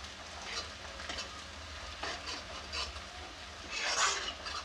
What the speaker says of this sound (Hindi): इसे ऐसे ही चलाते हुए भूनते रहेंगे, इसे अच्छी तरह से भूनेंगे चलाते हुए।